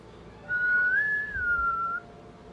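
A single sustained human whistle imitating a naval whistle, rising then gently falling in a smooth wavering tone for about a second and a half, over quiet room noise.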